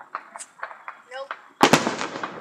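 Fourth of July fireworks go off: a few scattered small pops, then a loud, sharp crackling burst of explosions that rings out and decays.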